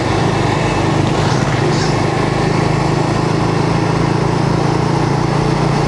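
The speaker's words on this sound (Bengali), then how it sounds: "বাইকের সাউন্ডটা আসলে কড়া একদম, অনেক সুন্দর একটা সাউন্ড এসছে" A Suzuki GSX-R150 motorcycle engine drones steadily and loudly throughout while riding on the road, a continuous buzzing hum with no pauses and no talking.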